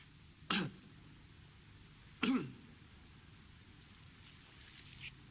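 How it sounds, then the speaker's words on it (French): Two short coughs a couple of seconds apart, close and fairly loud, followed by quiet rustling. "Tousse un peu."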